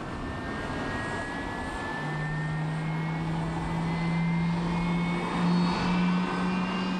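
Boeing 747-400 with four jet engines on takeoff, a steady, sustained roar and whine with rising tonal hums layered over a broad rumble, moderately loud with no voices.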